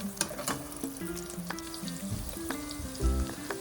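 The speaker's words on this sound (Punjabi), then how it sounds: "ਆਇਲ ਗਰਮ ਕਰਾਂਗੇ ਹੁਣ ਉਸ ਵਿੱਚ ਕੱਟੀਆਂ ਹੋਈਆਂ ਵੈਜੀਸ ਐਡ ਕਰਾਂਗੇ" Chopped vegetables frying in hot oil for noodles, a low, steady sizzle with faint spoon clatter and a brief thud near the end, fairly quiet and close.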